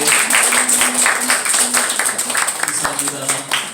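A church congregation claps to welcome a visiting family during a service, brisk and lively applause filling the room with a few voices mixed in.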